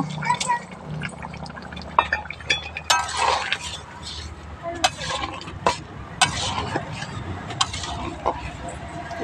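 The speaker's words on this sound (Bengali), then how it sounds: "নাড়িয়ে চাড়িয়ে নিলাম।" A spatula scrapes and clinks in a pan while fried egg and sugar are stirred, giving irregular sharp taps and scrapes over low frying noise as someone talks.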